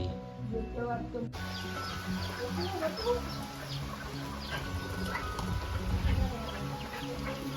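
Several chickens cluck and squawk in a noisy squabble close by just after a light rain shower in a Konkan village, with a person talking over the commotion.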